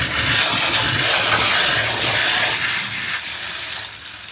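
A pond sump gets sprayed underneath, giving a continuous broadband hiss of rushing water that eases slightly toward the end. There is no talking.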